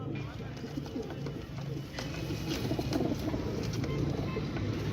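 A flock of pigeons coos continuously in low, rolling murmurs, close by, with faint voices and street noise underneath.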